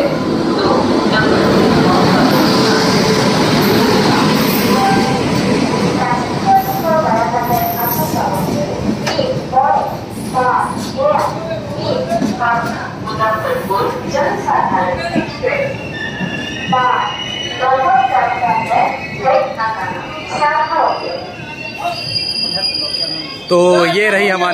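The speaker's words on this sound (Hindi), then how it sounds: "तो आ गई है अपनी ट्रेन जो है फुल्ली LHB कोच है" An Indian Railways Jansadharan Express with a full rake of LHB coaches rolls into a station, its wheels grinding and squealing loudly and steadily in the foreground while people talk over the noise on a crowded platform.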